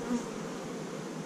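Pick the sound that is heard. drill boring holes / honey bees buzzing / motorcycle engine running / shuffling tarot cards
honey bees buzzing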